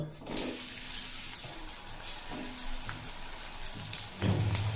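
Sliced bitter gourd dropped into hot mustard oil in a kadai crackles with a steady, bright sizzle throughout, swelling into a louder burst near the end.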